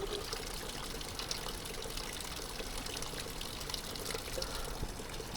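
Cold glacier water flows continuously on the Kheerganga trek, a steady, close rushing and trickling wash with no pauses.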